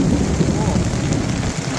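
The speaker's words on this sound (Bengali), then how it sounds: "টিনের চালে এই শব্দটা বৃষ্টি কিন্তু অন্যরকম লাগে, তাই না?" Heavy rain drums on a tin roof in a steady, dense patter, loud and continuous throughout with no talk.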